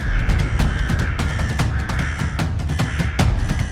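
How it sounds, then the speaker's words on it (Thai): Crow cawing in an audio drama comes as a loud, dense flock, harsh repeated caws overlapping in quick succession throughout, with no voice over them. "ทันใดนั้นฝูงเงาทะมึนพุ่งดิ่งลงมาจากยอดไม้มันคืออีกา"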